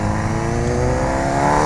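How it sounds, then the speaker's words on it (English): A 503-horsepower Mercedes-Benz C63S AMG accelerating, its exhaust a loud, continuous, rising engine roar that stays steady and close throughout with no voices. "God, that exhaust sounds good though."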